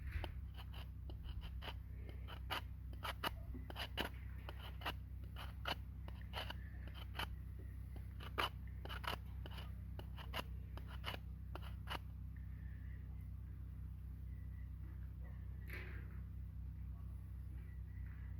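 Spine of a Fiskars stainless puukko knife scraping in a quick run of short, rasping strokes that stop about two-thirds through, over a steady low hum, close and fairly quiet.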